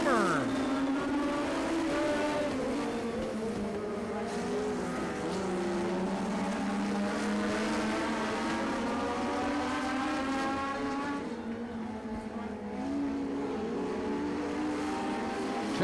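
Several race cars roar past on the track in a tight pack. Their engines give loud layered whines that rise and fall in pitch as they pass close by, and a faint announcer voice runs underneath.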